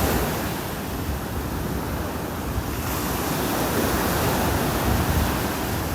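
Rough ocean waves crash continuously on a beach in North Naples, Florida, making a loud, dense roar of surf with gusts of wind mixed in and no voices.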